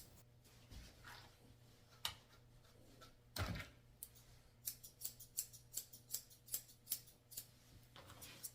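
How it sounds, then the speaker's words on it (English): Straight scissors trim the fur along the bottom of a Pomeranian mix dog's tail during grooming, giving a quick run of crisp, evenly spaced snips close up after a few scattered cuts. "I'm using my straight scissors to trim along the bottom of his tail."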